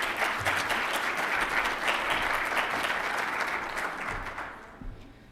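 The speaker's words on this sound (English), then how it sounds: "Give him a round of applause as he comes up." Audience applause at a student employee of the year ceremony as the outgoing student body president comes up, steady broadband clapping from a sizable crowd that holds for about four seconds and then tapers off near the end.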